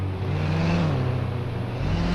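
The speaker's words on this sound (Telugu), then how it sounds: "మనమైతే ఒక్కసారి కార్ అయితే ఎక్కుదాం గైస్." A car engine in a mobile driving video game hums steadily and close, its pitch rising and dipping slightly as it revs, with no talking.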